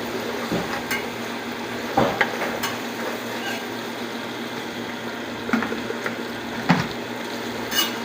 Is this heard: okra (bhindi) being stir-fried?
yes